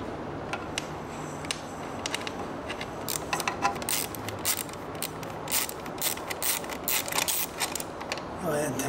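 Bolts being removed from a 2020 Aprilia RSV4 motorcycle while fitting a radiator guard: close, rapid ratcheting and metallic clicking in uneven bursts over a low background hum, with no talk.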